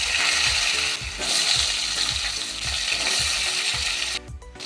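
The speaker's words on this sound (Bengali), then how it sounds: "আলুটা আমি ভেজে নেব।" Potato pieces frying in hot oil in a pan after five-spice tempering, a steady bright sizzle with a rhythmic scraping stir repeating roughly every half second, then the sizzle drops off sharply near the end.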